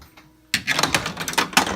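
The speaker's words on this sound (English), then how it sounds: "it actually will kick the ball out of the bottom underneath the door right in front" A Camelot pinball machine kicks the ball out from under its door ahead of the pop bumpers, a sudden mechanical clatter of rapid knocks and rattles after a quiet half second.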